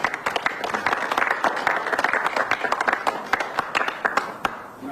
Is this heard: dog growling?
no